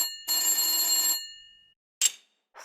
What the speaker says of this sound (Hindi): तभी टेलीफोन की घंटी बजती है।